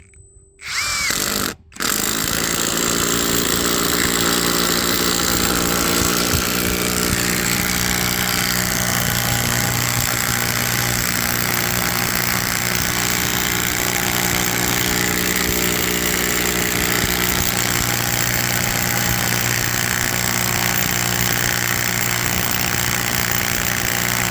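A 12-volt impact driver drives a 16 cm lag screw into spruce, starting after a brief pause and then running as a steady, loud, continuous buzzing hammer for over twenty seconds without talk.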